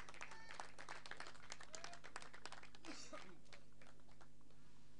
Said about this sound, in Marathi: जोरदार टाळ्या शुभम शेळकेसाठी